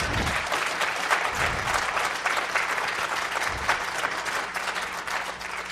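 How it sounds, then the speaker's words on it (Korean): Sustained applause from a church audience at a benefit concert for North Korean refugees, steady and dense throughout with no voices on top. "다른 교회에서는 이 타이밍에 박수 치던데요"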